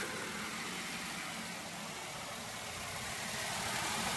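Engine of a 2018 Maruti Suzuki WagonR VXI idling, a steady, even hum with broadband rattle and no change in pitch throughout, fairly close and moderately quiet.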